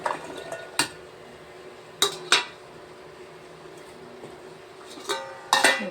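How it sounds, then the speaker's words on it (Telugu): Brinjal pieces go into a cooking pot on the stove, giving a few sharp metallic clanks and clinks spaced apart over a low steady background, with no talking. "ఇవి వంకాయలు వేసుకుంటాను."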